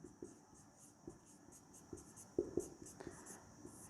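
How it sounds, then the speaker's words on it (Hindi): Writing on a board during a Class 12 biology lecture: soft, scratchy strokes come in short bursts with a few sharper taps, quiet and close, with no talking. "यहां लिख देता हूं"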